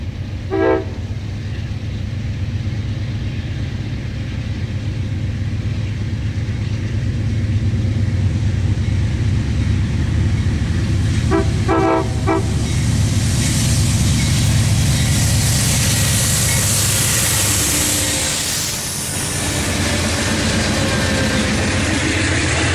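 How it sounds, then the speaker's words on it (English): Amtrak passenger train passes near a grade crossing, a loud sustained roar of rolling cars with two short horn blasts, one near the start and another around the middle, building then easing toward the end. "Amtrak was back up to speed as soon as they passed"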